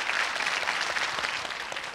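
A television game show studio audience applauding, a dense burst of clapping that stays full and even for a couple of seconds before easing slightly toward the end.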